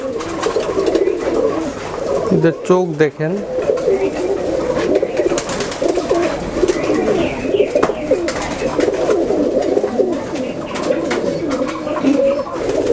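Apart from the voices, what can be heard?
Nildumba pigeons cooing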